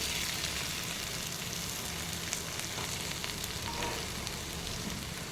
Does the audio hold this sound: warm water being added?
no